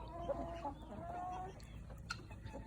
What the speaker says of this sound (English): Hey there, rooster.